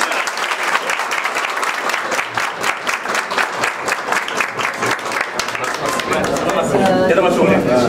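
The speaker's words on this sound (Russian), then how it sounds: "Давайте поклопаем." Colleagues at a flower agency birthday greeting clap together, a steady burst of close applause that swells slightly toward the end, with voices chattering over it.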